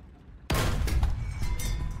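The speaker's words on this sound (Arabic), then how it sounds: "مدفع" A single heavy tank cannon shot in War Thunder, fired from an American M2A4 tank, booms suddenly and loudly after a quiet moment, then rumbles and echoes for over a second.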